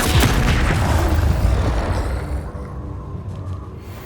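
Fiery Confringo spell blast in Hogwarts Legacy combat, a single loud booming explosion at the start that rumbles and decays over a few seconds, with no talk.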